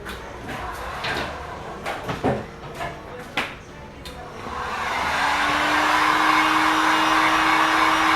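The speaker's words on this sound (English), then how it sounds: "I'm just going to grab the dryer, and we'll try and express dry that" A few clicks and handling knocks, then a hair dryer switches on and blows with a steady loud whoosh and hum, drying a fresh paint coat over a scratch repair.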